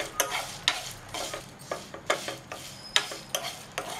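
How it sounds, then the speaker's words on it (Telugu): Coriander seeds and cumin fry with dried red chillies in a pan, crackling under repeated rhythmic stirring scrapes, close and moderately loud. "దీంట్లోనే ధనియాలు, జీలకర్ర వేసుకొని బాగా వేగనివ్వాలండి."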